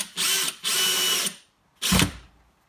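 A power drill drives screws into drywall anchors in three bursts: two longer whirring runs close together, then a short final zip after a pause, each close and fairly loud.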